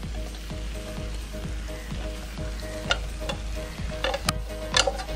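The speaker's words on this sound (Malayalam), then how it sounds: "നമുക്ക് ഇതിനകത്തോട്ട് വറുത്ത് വെച്ചേക്കുന്ന നമ്മുടെ മീനിൻ്റെ കഷ്ണങ്ങൾ ഇട്ട്" Fish pieces, fried beforehand, are tipped into a spice masala in a pan for a fish curry, giving a steady close sizzle of frying with repeated scraping stir strokes and a few sharper clinks near the end.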